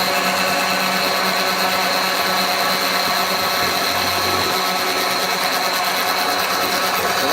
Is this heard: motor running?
yes